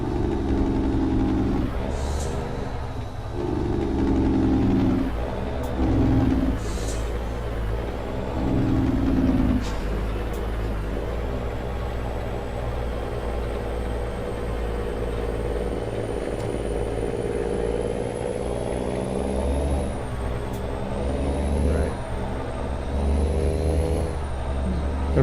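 A big-rig engine in American Truck Simulator drones steadily throughout, with a deep idle-like rumble, a few hissing air-brake bursts early on, and gear changes shifting the pitch later.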